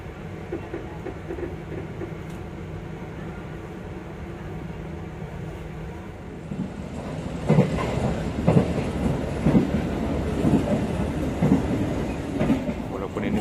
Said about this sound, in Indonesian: kereta api Belambangan Ekspres berangkatkan dari stasiun Surabaya Pasar Turi.